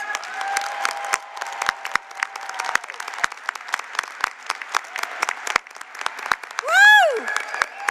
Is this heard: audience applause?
yes